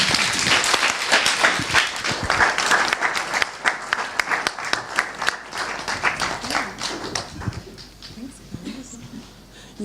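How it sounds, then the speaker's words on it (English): Audience applause ending a conversation talk, dense clapping from a room full of listeners that stays loud for most of the stretch before thinning out and fading near the end. "one last round of applause."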